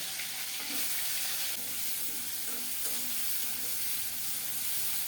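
Salted potatoes fry in a little mustard oil in a kadai, a soft, steady sizzle close by with faint stirring clicks, no voices.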